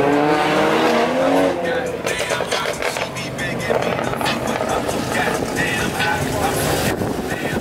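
A loud Volkswagen GTI engine revs hard with a roaring exhaust that rises and falls continuously, close by and dominating the whole stretch, at a car meet.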